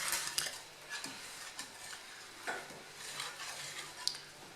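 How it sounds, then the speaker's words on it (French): A whisk or spoon stirs soaked gelatin into milk in a pot while making panna cotta, giving faint, close, intermittent clinks and swishes against the pan. "On vient la mettre dans le lait. Et on vient bien mélanger pour la faire fondre en fait."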